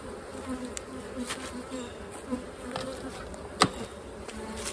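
Steady buzzing of many honey bees swarming close by around an open hive, a continuous dense drone with individual bees zipping past the mic.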